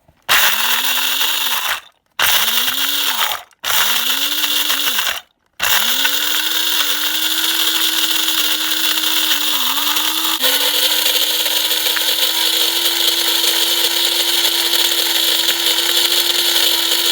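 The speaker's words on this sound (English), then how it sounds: "This is my coffee grinder." A small electric coffee grinder, old and well used, grinding almonds, whirs loudly in several short bursts with brief pauses, then runs continuously, its motor pitch steady and close.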